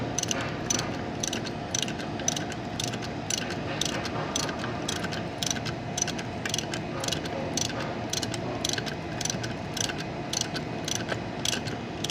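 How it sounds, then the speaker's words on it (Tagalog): A socket wrench ratcheting out a deeply recessed screw on a water pump, a steady run of quick metallic clicks in repeated strokes, close and clear. "gamit natin yung socket wrench para mahirap kasi nakabaon yung tornilyo nito"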